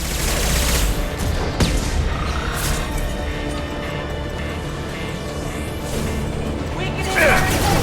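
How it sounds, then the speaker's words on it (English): Heavy gunfire from Mass Effect 2 combat: dense, sustained volleys of shots and impacts at close range, with sharp bursts and crashes over a constant roar, voices mixed in. "Taking heavy fire!"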